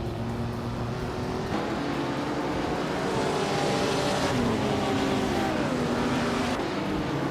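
Vintage 1956 Maserati 450S race cars racing in a video game, with a steady, loud engine drone whose pitch climbs and falls as the cars accelerate and shift, running continuously throughout.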